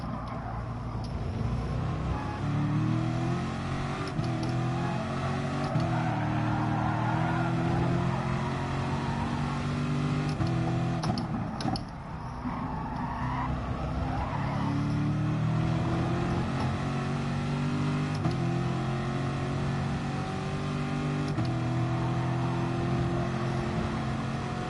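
Race car engine in the Gran Turismo Sport video game on FIA tracks, a continuous droning engine note rising and falling with throttle and gear changes, steady and fairly loud with no talking.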